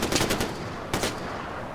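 Gunfire in the video game Far Cry 4, two quick bursts of rapid automatic shots, loud and close, with a short gap between them and no talk.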